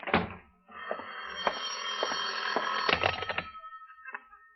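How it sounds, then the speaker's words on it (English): An old telephone bell rings as a radio drama sound effect in a 1950 suspense broadcast: a short ring, a pause, then a sustained clangorous ringing that decays with a few last taps, loud and alone. "Your phone, John. Answer it."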